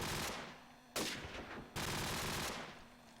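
SMG fire in a competitive esports shooter match, heard as dense bursts of rapid automatic shots. Two bursts start abruptly partway through, over steady in-game noise.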